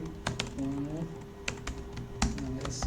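Computer keyboard typing into Notepad, a string of crisp key clicks in short irregular bursts up close, with a voice talking over parts of it.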